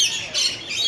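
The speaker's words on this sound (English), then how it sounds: "Look, birdies. We got birdies." Birds squawking at a fairground, a steady bright chorus of shrill calls in two louder swells over about a second, with no talk over it.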